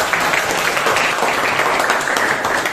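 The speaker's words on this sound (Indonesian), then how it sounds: "Tepuk tangan" A classroom of students claps hands together in a dense, steady burst of applause that stays loud and fills the whole moment, with no talking over it.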